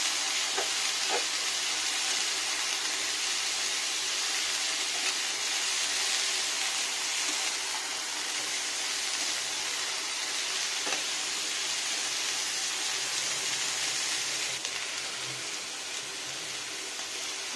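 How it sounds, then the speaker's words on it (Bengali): Food fries in a pan with a constant hissing sizzle, close and even, with a few faint clinks and no talking. "এই একটু ফ্রাই করে নেবো।"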